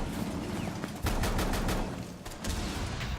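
Shotgun blasts ring out in a first-person shooter video game, several loud booming shots in quick succession over steady game ambience, with no talking.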